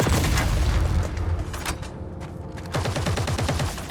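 Explosions and turret gunfire in the sci-fi shooter EVE Vanguard, dense rapid bursts and heavy booms rolling together, loud and close, easing briefly before another volley of rapid shots.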